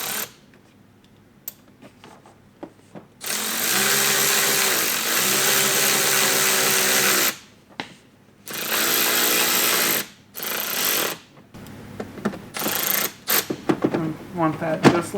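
A power driver runs a number 8 screw with a 1.25-inch washer through a rally-style mud flap into the fender edge of a 2022-2024 BMW X3 M, with loud whirring bursts of a few seconds each and short clicks and handling noise between them.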